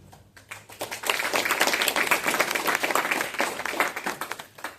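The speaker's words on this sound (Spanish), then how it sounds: "Nuevamente le brindamos fuertes aplausos." Audience applause fills a hall at the opening session of the second Peruvian Congress of International Law, a dense steady clapping that swells after a quiet start and holds loud throughout.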